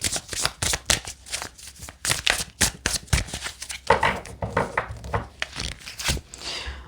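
Tarot cards are shuffled close up in quick, uneven riffling bursts and soft slaps, a busy papery clatter lasting several seconds with no voices over it.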